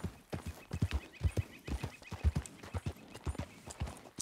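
In Red Dead Redemption 2, a frightened horse's hooves clop in a quick, steady galloping rhythm, close and moderately loud, with a whinny mixed into the beat.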